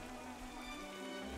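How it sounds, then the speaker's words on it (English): Rain falls in the video game Xenoblade Chronicles 3, a faint, steady hiss of pattering drops heard alone for a brief moment. "Oh, it's raining."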